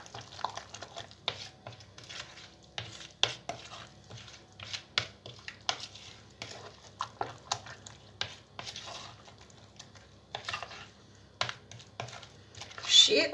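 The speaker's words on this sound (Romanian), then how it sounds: "Amestecăm ceapa cu maioneza." A spoon stirs onion into mayonnaise in a bowl, giving a string of soft, irregular clicks and wet scrapes that sit close and fairly quiet, with brief pauses between strokes.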